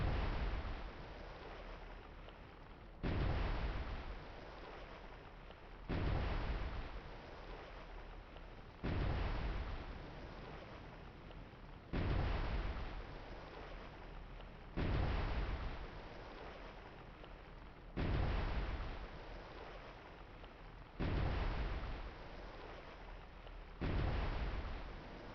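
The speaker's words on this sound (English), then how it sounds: "They're shooting at me." Heavy naval gunfire from enemy surface vessels in the submarine game Cold Waters: booming shots arrive at regular intervals about every three seconds, each a sharp blast trailing into a rumbling decay, with no voices.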